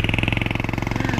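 A cement mixer truck on a road being worked on by a construction crew. It gives a loud, close, rapidly pulsing diesel engine throb with a steady rhythmic chug throughout.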